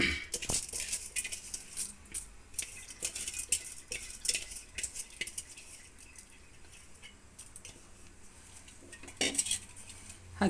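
Raw rice, not basmati, being tipped into a pot of vegetable pulao and stirred, with close, busy metallic clinks and scrapes of a spoon against the pot.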